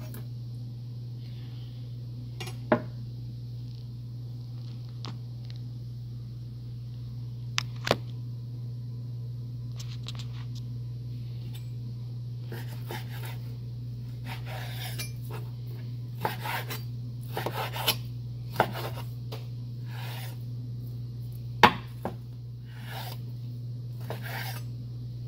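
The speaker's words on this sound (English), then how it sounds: "Fat kind of grosses me out, so I kind of trim it off." A knife trims fat from raw meat and cuts it into bite-sized pieces, with sparse soft scraping and sharp taps on a board over a steady low hum.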